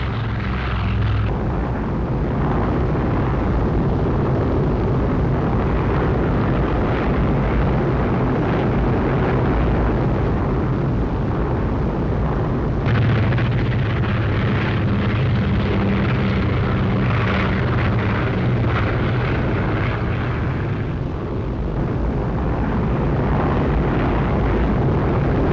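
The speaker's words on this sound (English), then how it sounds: "In groups, the planes head for two sub-assembly areas, which will funnel them into German territory" A dense, continuous roar of WWII transport planes flying in formation toward German territory during Operation Varsity, a loud, steady engine drone with a muffled, band-limited quality that swells slightly midway, with no voices.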